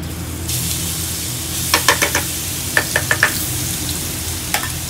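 Garlic sizzles in hot oil with a steady close frying hiss, broken by several quick clinks of a utensil stirring in the pan.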